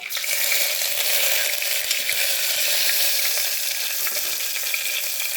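Curry leaves and spices frying in hot oil in a pan while making chickpea and potato kurma, a steady close, loud sizzle with faint crackles throughout.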